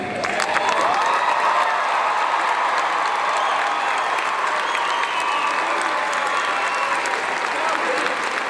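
Sustained applause from a large graduation ceremony crowd, dense steady clapping filling the whole stretch with a faint murmur of voices beneath.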